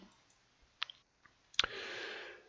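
A computer mouse clicks while selecting an item in Microsoft Word, a few faint, sharp clicks in a quiet room followed by a soft brief rustle.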